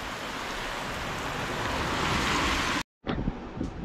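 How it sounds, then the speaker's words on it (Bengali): Rain falling steadily after a heavy downpour, giving a continuous wash of hiss close to the microphone that cuts out briefly near the end, with no talking. "দেখো কত বৃষ্টি এখন তো বৃষ্টি একটু কম"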